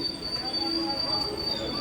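A train rolls slowly into a railway station in the rain, its wheels giving a steady high metallic squeal over a low rumble, close and continuous.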